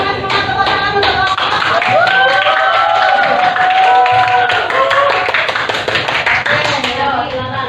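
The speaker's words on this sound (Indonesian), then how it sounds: "Semangat, tepuk tangan untuk" A school class applauds in a classroom, a dense and loud stretch of rapid clapping that runs steadily throughout, with voices calling out over it.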